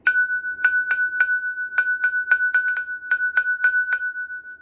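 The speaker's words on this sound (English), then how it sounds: "I would like you to take an empty glass and tap it with a wooden spoon." An empty drinking glass tapped with a wooden spoon rings out in about fifteen clear, bell-like strikes at an uneven tapping rhythm, each tone sustaining briefly, close and alone with no talking.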